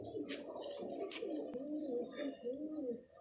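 A pigeon coos repeatedly nearby, soft throaty rolling calls in a steady rhythm, with faint higher chirps and rustling in the background.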